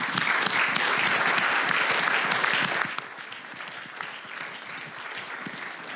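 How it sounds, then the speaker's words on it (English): An audience at an information day on research grants breaks into dense, loud applause that thins and fades to quieter scattered clapping halfway through. "So let's give a hand of applause to actually people from Technological Agency and Zdeněk for this."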